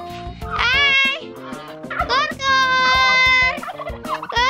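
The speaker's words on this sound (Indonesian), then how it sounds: "Nih, angsa aku, kalkunku." A turkey kept among backyard fowl gobbles loudly and close by in several rapid warbling bursts, with short pauses between calls and no talk.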